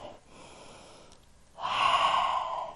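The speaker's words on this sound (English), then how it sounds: "Big cleansing breath." During a yoga session, a person breathes in softly, then lets out a long, full, audible exhale, close and breathy, lasting over a second, with no talk.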